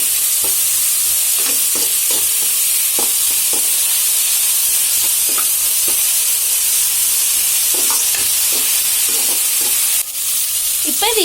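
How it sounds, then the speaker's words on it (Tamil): Vegetables with carrot and ginger garlic paste sautéing in a pan, a continuous loud sizzle with repeated stirring scrapes throughout. "கூடவே கேரட்டும் சேர்த்து எல்லாத்தையும் நல்லா வதக்கிக்கலாம்"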